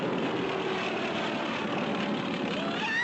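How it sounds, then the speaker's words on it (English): A cartoon airplane sweeps close by, a steady droning propeller engine roar with a slight rising whine, loud and continuous throughout. "It's a plane coming straight at us!"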